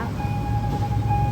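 A steady electronic railroad crossing warning tone rings continuously over a low rumbling background at the Si Ayutthaya Road level crossing in Bangkok.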